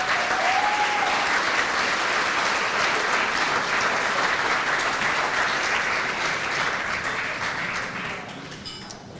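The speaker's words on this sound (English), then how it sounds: "Let's give him a big round of applause." A banquet crowd gives a Hall of Fame inductee at a high school induction ceremony a long, full round of applause, dense and steady throughout before fading slightly at the close.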